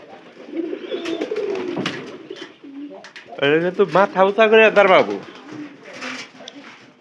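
Pigeons cooing nearby in a coop, low rolling coos in quick bursts, loudest in the middle, mixed with someone talking over them.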